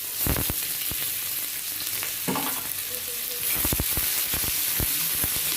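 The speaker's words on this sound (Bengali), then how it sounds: "এবারে কুচনো পেঁয়াজ দিয়ে দেওয়া হচ্ছে।" Chopped onion fries in a pan of oil for a Bengali macher jhal, a dense, close sizzle broken by repeated sharp clacks and scrapes of a spatula stirring in irregular rhythm.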